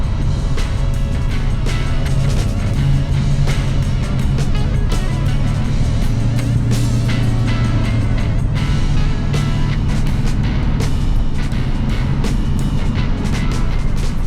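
A 1968 Ford Mustang on the move, its engine a steady, loud low rumble with tonal drone and road noise filling the whole stretch, no talking over it.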